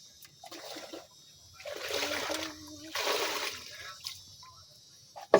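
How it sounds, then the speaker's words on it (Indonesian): Sugar solution is poured from a container onto garden soil for chili plants, giving splashing, trickling water sounds in two or three bursts, moderately close, with quiet gaps and a sharp knock at the end. "Kalau sudah menjadi gula seperti ini, baru kita tuangkan di sini sahabat tani."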